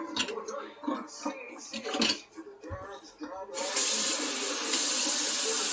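A container is refilled with water while grape leaves are being washed. Dishes clink and bump briefly, then a tap gushes in a steady loud stream that fills the rest of the clip.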